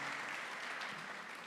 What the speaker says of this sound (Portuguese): Louve ao Senhor Jesus mais uma vez com a salva de palmas